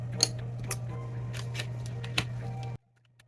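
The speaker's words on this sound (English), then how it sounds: "just give me a moment while I flip all the cards" Tarot cards are flipped face up one after another, giving several soft, sharp snaps spaced irregularly over a steady low hum, ending abruptly in near silence.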